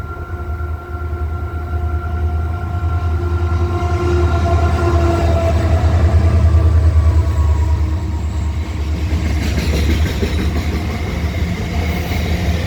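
A Southern Short Haul Railroad train led by locomotives C507 and C503 passes at Cockle Creek, a loud, sustained rumble of engines and rolling wagons that swells and then eases.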